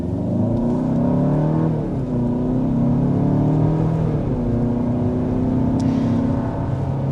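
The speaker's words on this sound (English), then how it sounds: "was a quick acceleration up to 60 miles an hour with this Santa Fe" A 2026 Hyundai Santa Fe with its new conventional 8-speed automatic accelerates hard up to 60 mph. The engine drones loud and steady, rising in pitch and dropping back at each upshift, with no talk.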